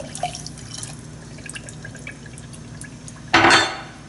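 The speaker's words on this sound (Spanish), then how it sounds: "y le vamos a echar media taza de agua" Half a cup of water goes into a small pot of sugar for caramel: faint drips and clinks, then a short, loud close splash of pouring near the end.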